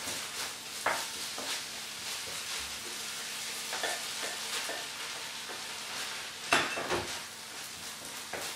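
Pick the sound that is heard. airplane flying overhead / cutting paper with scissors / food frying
food frying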